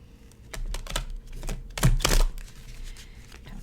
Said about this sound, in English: So we're gonna do a little shuffle, a little bit of a shuffle here.